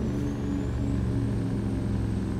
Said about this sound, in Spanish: Escuchen ese freno de motor.